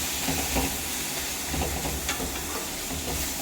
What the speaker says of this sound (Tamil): இதை இப்போ நல்லா வதங்கணும்.